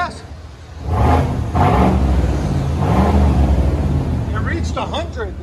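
Loud, deep exhaust rumble from a Chevy/GMC 5.3L V8 truck with resonator-style exhaust, stationary, swelling as it is revved and holding a steady drone throughout.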